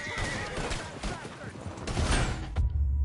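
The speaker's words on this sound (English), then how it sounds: "Dude, stop shooting at me." Gunfire in Red Dead Redemption 2 crackles in a rapid fusillade of close shots amid horse hooves and a whinny, with a deep thump near the end and a voice talking over it.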